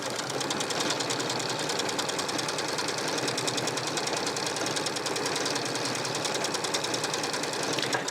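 A Janome Skyline sewing machine stitching continuously at a steady fast rhythm, its needle mechanism pulsing in rapid even strokes, close and loud with no talking.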